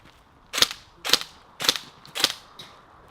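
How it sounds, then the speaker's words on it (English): An airsoft rifle fires four sharp shots at a target at an even pace, each a crisp close snap with a short mechanical tail, followed by a fainter fifth click. "We are going to shoot 4 times on a target while moving over to the first point."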